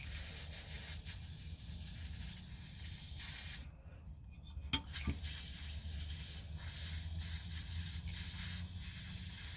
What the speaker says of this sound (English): So just use the air to spray inside the bearings and just get any excess water out